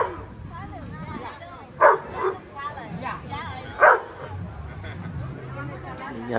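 Dogs bark sharply twice at a street market, with a smaller yip in between, over a continuous hubbub of people talking nearby.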